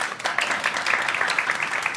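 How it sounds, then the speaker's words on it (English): Audience at a startup incubator pitch event giving a round of applause, a steady rattle of many hands clapping at moderate volume with no pauses. "Please give them a big round of applause"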